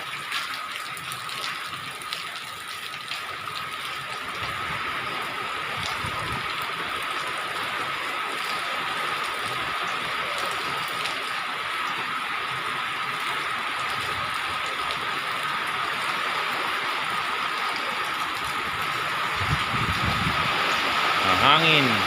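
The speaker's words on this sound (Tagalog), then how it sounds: "Sabay ng hangin, malakas ang ulan." Heavy typhoon rain driven by wind, a dense continuous hiss and patter of water that swells slightly louder toward the end, with no talking over it.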